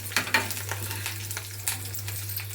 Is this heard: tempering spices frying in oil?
yes